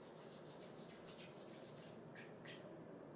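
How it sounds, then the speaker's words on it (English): Dry mint is rubbed between the palms of the hands, giving a faint, close, rhythmic scratchy rustle of repeated strokes that ends with a couple of sharper brushing swipes. "I'm just kind of rub my palms together to get the dry herb as ground as possible."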